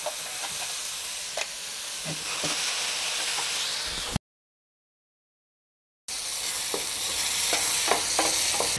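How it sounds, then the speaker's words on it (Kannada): Ground tomato coriander chutney paste frying in oil, a steady close hiss and sizzle with intermittent stirring scrapes, broken by a brief gap of silence. "ಇಷ್ಟು ಎಣ್ಣೆ ಚೆನ್ನಾಗಿ ಫ್ರೈ ಮಾಡ್ಕೋಬೇಕು"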